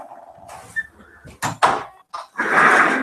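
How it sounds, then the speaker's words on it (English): Indoors, a door is shifted and closed, producing a few scraping knocks and thuds in irregular bursts, ending in a louder rushing slide close by, with no speech. "Let me fix this door."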